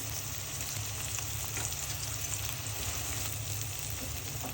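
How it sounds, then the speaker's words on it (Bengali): Onion with ginger paste, green chilli and cumin powder sizzles steadily in frying oil for a fish curry, a dense continuous hiss with faint stirring scrapes, close and alone. "ভালো করে নেড়ে মশলা পেঁয়াজ তেলের সাথে মিশিয়ে নিব"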